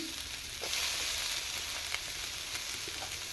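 Carrots sizzle in a hot pan, a loud continuous frying crackle with occasional sharper pops, steady from start to finish with no voices over it.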